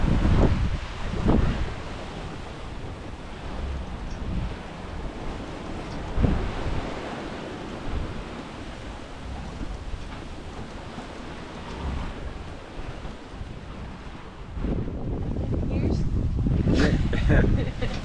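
Wind buffets the microphone while waves wash against a sailing boat at sea, a steady rushing roar with louder gusts near the end, and people talk over it.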